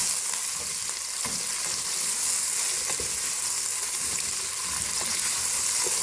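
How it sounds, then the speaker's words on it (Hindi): Chopped onions frying in about three-quarters of a cup of hot oil in a pan for turai sabzi, a steady broadband sizzle lasting several seconds with a few faint stirring taps, no talking. "अब इसमें हम प्याज शामिल करेंगे। इसको हल्का सा ब्राउन करेंगे।"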